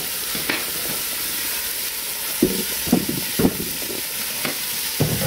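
Pork chops browning in a pan give a steady sizzle throughout, with a few louder clinks and scrapes of a utensil against the pan in the second half.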